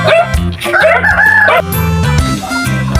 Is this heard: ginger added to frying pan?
no